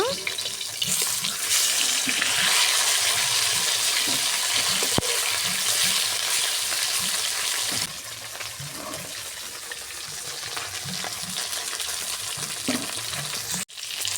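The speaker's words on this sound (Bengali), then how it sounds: "মাছগুলোকে এবার উল্টে দেব" Turmeric-and-salt-coated tilapia crackles steadily in hot oil after being turned over in a village kitchen, with soft scraping and utensil knocks over a dense sizzle that drops slightly in level partway through.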